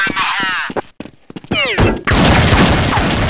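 A first-person shooter match opens with a voice talking, then loud, close bursts of rifle fire crack in quick succession and build into a sustained volley.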